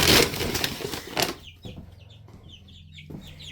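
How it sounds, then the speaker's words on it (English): Young chicks peep in rapid, high chirps while being fed, following a brief burst of rustling and wing flapping at the start. "So there's the chicks from the day of the eclipse."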